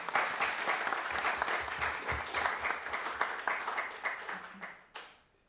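Audience applause at a talk on news media and politics: dense, steady clapping from a crowd for about five seconds, then cutting off abruptly near the end with a brief fading tail.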